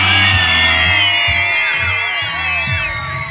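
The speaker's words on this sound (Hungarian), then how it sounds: "Közösen egy nagyot sikítunk, ha vagy és vagy kiabálunk." Concert crowd at a Hungarian pop show screaming and shouting together, a loud massed high-pitched wall of cries that swells and fades over low pulsing music.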